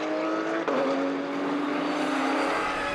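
Race cars scream past on the Paul Ricard circuit during a close-packed race, a sustained high engine whine holding steady with a sharp shift in pitch early on, heard without speech.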